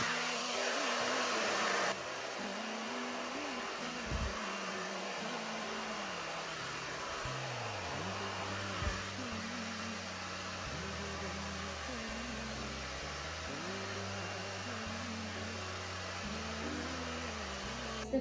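Hair dryer blowing steadily on level 2 heat with airflow at setting 1, a constant close whooshing hum that shifts slightly in pitch as it moves, with someone talking faintly beneath it.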